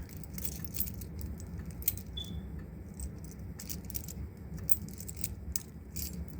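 A ring of keys, among them a Firelight fire alarm panel key, jangles and clicks steadily as it is sorted through by hand: close, continuous metallic rattling with sharper clinks, heard alone over a low hum.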